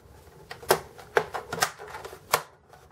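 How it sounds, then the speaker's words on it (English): Plastic tabs clicking into place as a part is pushed down into a Compaq Presario CQ57 laptop, a quick irregular series of faint, close snaps over low background hiss. "you're going to hear a bunch of clicking."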